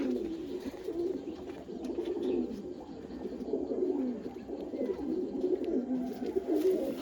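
Continuous cooing from old pigeons at a show and sale fills the space, a low, rolling murmur of several birds close by with no talking.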